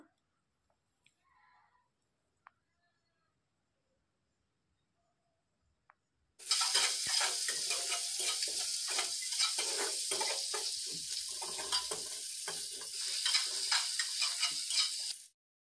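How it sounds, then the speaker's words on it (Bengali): After several seconds of near silence, chopped onion, garlic paste and slit green chilies hit hot oil in a wok and break into a loud, dense sizzle, with stirring scrapes and clicks running on until the end. "আবারও একটু কড়াইতে তেল দিয়ে পেঁয়াজ কুচি, রসুন বাটা ও কাঁচা লঙ্কা চেরা দিয়ে ভালোভাবে নেড়ে চেড়ে নেব।"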